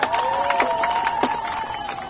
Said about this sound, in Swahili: Tumpigie Yesu makofi mazuri kabisa.